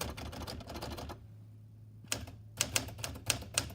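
Typing on a Smith Corona Silent Super vintage manual typewriter: a close burst of key strikes, a short pause, then sharp individual clacks spaced in an uneven rhythm, with no talk.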